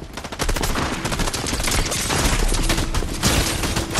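Rapid gunfire from a pistol in a shooter video game: loud, dense, continuous volleys of shots, close and unbroken for a few seconds with almost no talk.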